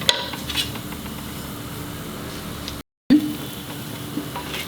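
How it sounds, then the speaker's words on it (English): Grated coconut frying in oil in a pan over a medium-low flame, a continuous soft sizzle with occasional light scrapes and clinks from stirring, briefly cut to silence midway. "Fry it till this coconut gets a little brown tinge."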